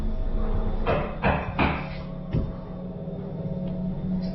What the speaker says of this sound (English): And the door's wobbling.